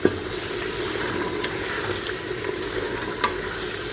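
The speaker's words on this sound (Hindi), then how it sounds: "यहाँ मैं निहारी के लिए थोड़ा सा आटा भून रही हूँ।" Flour roasting in a pan for nihari, a soft continuous sizzle close by with occasional light scrapes and taps of a spoon against the pan.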